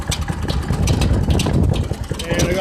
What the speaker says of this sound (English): But got the engine running, the chain and clutch, all that on there